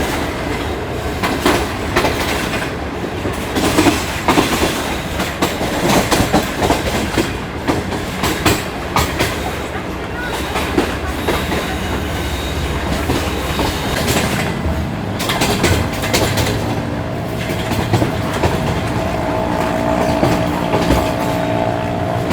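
The Karachi Express passenger train runs on the rails in Sindh near Karachi, giving a continuous rumble with rhythmic wheel clatter and occasional squeals throughout, and no talk.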